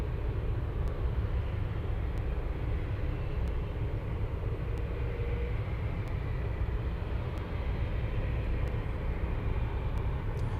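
A Boeing 747-8 cargo jet at Anchorage airport gives off a steady, distant low rumble of engines over open-air background noise, with faint regular ticks spaced through the recording.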